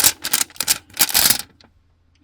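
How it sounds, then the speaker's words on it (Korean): A noisy biodegradable plastic bag made from corn starch crinkles up close during an album unboxing. Bursts of sharp rustling come in quick clusters for about a second and a half, then stop into near silence. "이거 생분해 비닐이다. 시끄러운 거 보니까."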